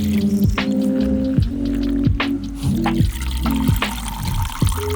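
A tie-dyed shirt is plunged and squeezed in water, giving repeated close pouring, squishing and dripping sounds in an uneven rhythm, with no talk.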